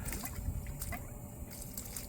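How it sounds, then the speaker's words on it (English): Gentle water from a hose or tap rinses a Cobb SF intake air filter for a Subaru Forester, a soft continuous splashing and trickling heard close and fairly quiet. "And then you can start rinsing it out from the clean to dirty side."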